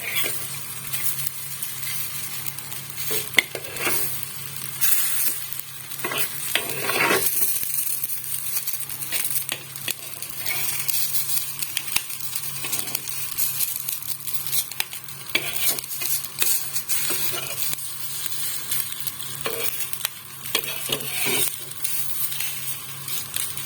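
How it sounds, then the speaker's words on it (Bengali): An oats cutlet frying in oil in a pan gives off a continuous crackling sizzle for the whole stretch, with occasional scraping and clinking from a utensil. "দেখুন, আমার এবার 1 পিঠ ভাজা হয়ে গেছে।"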